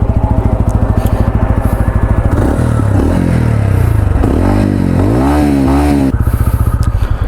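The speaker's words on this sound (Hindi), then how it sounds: "एग्जॉस्ट साउंड आपको सुना देते हैं एक बारी, किल स्विच ऑन। तो इसका एग्जॉस्ट का इनिशियल साउंड है" TVS Ronin 225 motorcycle exhaust revved while stationary: a steady idle burble, then several loud rising and falling throttle blips close by, settling back to idle, with no talking.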